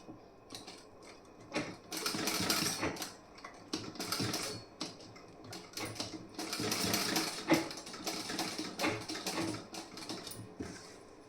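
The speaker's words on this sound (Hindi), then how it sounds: "ऐसे आपको यहाँ पे तिरछा नुकीला करके सिलाई लगाना है" A sewing machine stitches a garment's back panel and sleeve, running in bursts of fast rattling clatter separated by short pauses, fairly close and moderately quiet.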